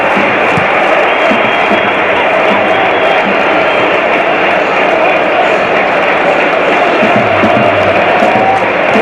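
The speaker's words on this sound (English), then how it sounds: "His goalkeeper led the applause for that" A dense crowd at a Southampton versus Ipswich Town football match applauds and murmurs in a steady, loud wash of stadium noise that holds without a break.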